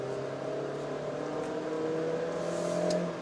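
A GAC GS3 car's engine hums steadily from inside the cabin while driving, a sustained droning tone that rises slightly in pitch without any sharp revving peaks.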